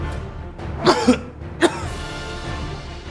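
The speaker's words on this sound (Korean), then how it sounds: "이물질을 뱉기 위해 잦은 기침이나 색색거리는 소리를 내게 되는데" Three sharp coughs from partial airway blockage by food, close together, the first two in quick succession and a third shortly after, close and fairly loud against a quiet background.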